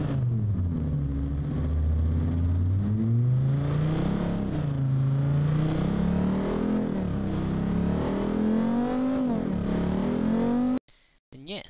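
A simulated German station wagon engine from the Automation and BeamNG games revs up and down repeatedly, a loud rising and falling tone that cuts off abruptly near the end.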